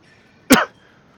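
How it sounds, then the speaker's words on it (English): A man gives a single sharp, loud cough up close, a short harsh burst in an otherwise quiet room. "why are you coughing so much, man? It's so loud."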